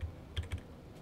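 A few quick, soft clicks of keys on a computer keyboard, faint and close, with a small cluster of taps near the start and then quiet.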